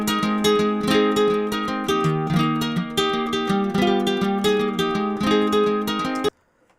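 Fingers pick individual notes on a vintage classical guitar in a flowing, bright melodic pattern, close and clear, ringing steadily for about six seconds before cutting off to silence.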